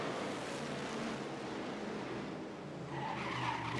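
Race cars on track during qualifying at the Grand Prix de Trois-Rivières make a continuous roaring wash of engine and tire noise, heard at a distance and fairly faint, swelling slightly toward the end.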